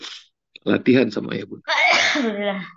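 A single sneeze bursts out amid nearby speech, loud and close, with someone talking before and after it.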